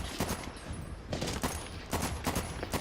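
Enemy gunfire in the shooter game Medal of Honor Warfighter, with repeated bursts of rapid shots at a mid distance, separated by short pauses, and no talking.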